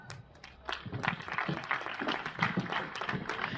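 An audience at an outdoor Mediterranean music event at Piscinas applauds, a dense wash of many hands clapping that builds after a quiet start and continues at a moderate, fairly distant level.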